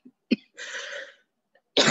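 A person coughs a few times at close range, short sharp bursts separated by brief silences, alone with no talk.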